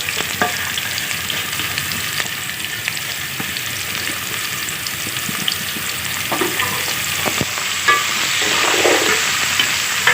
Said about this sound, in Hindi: और फिर इसी में ये प्याज डालेंगे और इसको लाइट गोल्डन ब्राउन करेंगे।